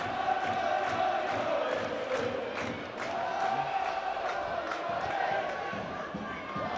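A rugby league crowd at a 2010 Warrington versus Harlequins match roars and chants continuously in a large stadium, a broad distant wash of cheering with rhythmic claps, under a commentator's voice.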